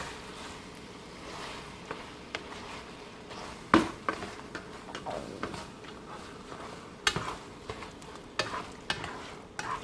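Sharp cheddar stirred into egg and chorizo in a pan with the heat just turned off: a soft background sizzle under repeated scraping, clattering stir strokes against the pan.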